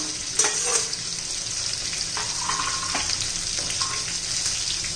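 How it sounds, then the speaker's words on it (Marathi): Leftover masala stirred into stuffed capsicums frying in a pan, a steady close sizzle broken by a few scraping spoon strokes and light clinks. "आता आपण हा उरलेला जो मसाला आहे ना, याच्यामध्ये घालून घेऊया."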